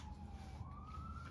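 A distant siren wails in a slow rising tone over low rumbling traffic noise, faint and brief with no voices.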